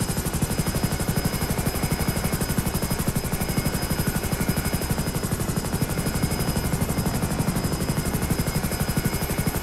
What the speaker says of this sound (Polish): delikatnego upgrade'u doczekał się śmigłowiec Hunter,